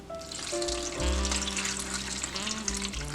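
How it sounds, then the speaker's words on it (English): Water is poured from a tap into a cooking pot holding pumpkin pieces, a steady gushing stream that rises in pitch as the pot fills, close and fairly loud with no talking. "you're gonna need very little water as the pumpkin has a lot of liquid in it"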